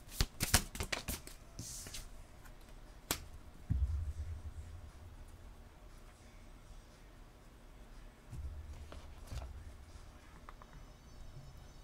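Oracle cards are shuffled and drawn by hand, brisk papery riffles and flicks at the start followed by softer slides and taps, close and quiet with no talk.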